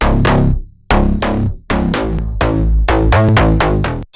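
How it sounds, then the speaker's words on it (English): A punchy slap house synth bass hits in loud, short, pitched stabs that form a bouncy riff, each note snapping in hard and decaying quickly. "this is the typical Slap House bass,"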